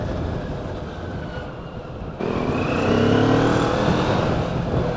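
Hartford Diablo 650 motorcycle riding at speed, with steady engine drone and wind rush, briefly easing before the engine tone rises and holds louder, close and continuous.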